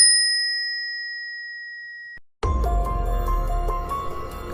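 A single bright notification bell ding rings out clearly and decays slowly over about two seconds, then is cut off by a short silence and the start of music.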